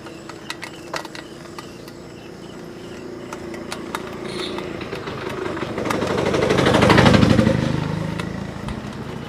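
A motorcycle engine running while riding, a steady close mechanical drone with a rising, swelling roar toward the end as the bike speeds up, and scattered small clicks and rattles.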